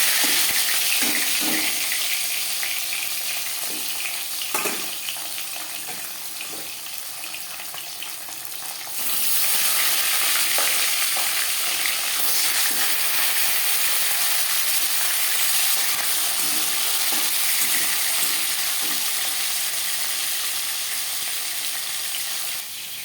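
Marinated tilapia pieces go into hot refined oil in a pan: a moderate sizzle jumps to a loud, dense, steady frying hiss that continues unbroken, with occasional faint clinks.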